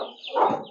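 A single short cluck from an Aseel hen in a backyard coop, close and moderately loud, less than a second long, with no talking over it.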